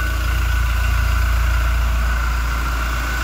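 A Toyota Innova Reborn engine idling steadily with a modified exhaust system, a low continuous rumble with an even pulsing throb that holds unchanged throughout.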